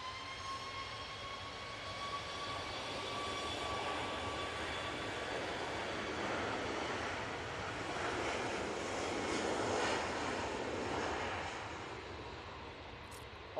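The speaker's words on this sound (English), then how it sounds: "Ryanair 737 MAX 8 now on the roll" At Manchester Airport, a Ryanair Boeing 737 MAX 8 jet rolls for takeoff with a sustained engine roar and a thin whine, swelling gradually as it builds and then easing slightly, with no voices.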